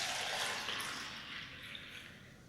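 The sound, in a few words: pouring rosemary tea through a strainer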